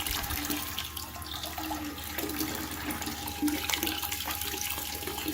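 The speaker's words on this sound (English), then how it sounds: "I got the pump in my bucket of water. So let's turn it on." A Tera Pump TRHA03 fuel transfer pump pushes water from a bucket, giving a steady, continuous splashing flow with a light constant rush from start to finish.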